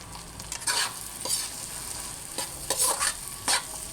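Mussels sizzle in a pan with bell pepper and oyster sauce while a spoon stirs them, bringing repeated scraping and clattering bursts over a continuous frying hiss.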